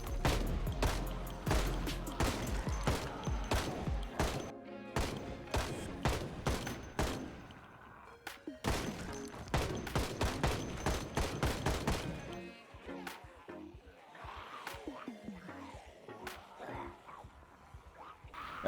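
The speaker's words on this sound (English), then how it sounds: "using the AK to clear out the remaining zombies" AK rifle gunfire aimed at zombies in a video game: dense, rapid bursts of close, loud shots crack back to back for about twelve seconds, then thin into scattered shots over a busier, mixed game background.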